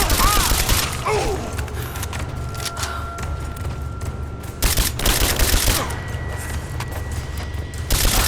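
Gunfire in the video game Rise of the Tomb Raider, bursts of loud rapid shots and heavy thuds in a chaotic firefight, with shouted voices in the mix.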